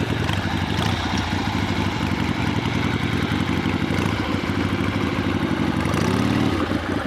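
A motorcycle engine runs loud and steady nearby with a constant rumbling drone and some mechanical clatter, rising slightly near the end.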